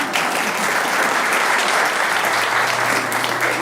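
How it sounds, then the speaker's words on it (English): A crowd in a hall claps for itself after a talent show, a loud, dense burst of applause that keeps going for several seconds. "Give yourselves a round of applause."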